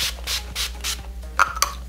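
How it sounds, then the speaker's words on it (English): Makeup setting spray misted onto a face in a short series of four soft, hissing bursts close by, followed by a couple of sharper clicks or puffs. "I'm gonna spray this on before putting my mascara in my lower lashes"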